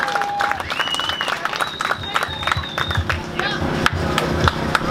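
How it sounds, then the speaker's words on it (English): Crowd applause and cheering at an outdoor charity fishing tournament on Rice Lake, steady clapping with whoops and whistles rising over a murmur of voices for about five seconds. "let's give him an extra round of applause"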